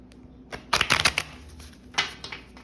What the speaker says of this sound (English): I feel like I need to shuffle a little bit more.